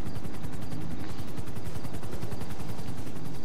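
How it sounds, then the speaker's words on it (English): Helicopter hovering right overhead in the video game GTA 5, a loud steady rapid rotor chop pulsing evenly throughout with no talking. "Where's the helicopter? Hey. It's right above us."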